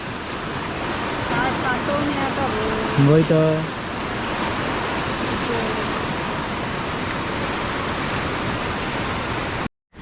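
Heavy monsoon rain pours down in Konkan as a steady, dense roar that fills the whole scene, with a brief voice speaking around the third second before the downpour continues alone.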